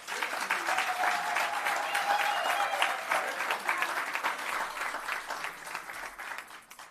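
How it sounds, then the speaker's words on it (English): Sustained applause from a large crowd at a rural investment summit in South Africa, steady and full throughout before thinning slightly toward the end. "We want to give her a big round of applause."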